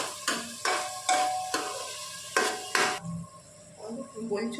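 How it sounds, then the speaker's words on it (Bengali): Red lentils stirred in hot oil in a pan as cut potatoes go in: a spoon scrapes and clanks in several sharp strokes over a light sizzle, close by, followed by quieter cooking noise. "মুসুর ডালটা হালকা করে তেলের মধ্যে নেড়ে নিয়ে দিয়ে দেবে কেটে রাখা আলুটা।"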